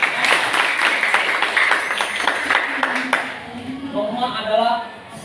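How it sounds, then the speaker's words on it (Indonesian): Classroom applause from students, a brief patter of clapping over the first few seconds, then the clapping fades and a teacher speaks. "Oke, bagus sekali. Tepuk tangan."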